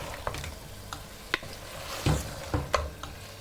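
Potato and aubergine curry sizzling in a pan while a spoon stirs it, soft frying hiss broken by several distinct scraping knocks, close and without talk.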